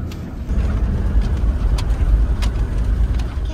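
A car engine rumbles low and loud as the vehicle accelerates through sand at a river crossing, a steady, throaty drone with no talking.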